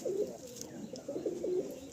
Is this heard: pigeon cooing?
yes